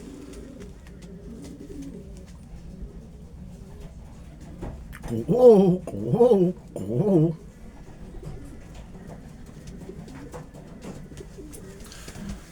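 Racing pigeons coo inside a small loft, three close, swelling bursts in the middle with quieter murmuring before and after, while a person speaks briefly.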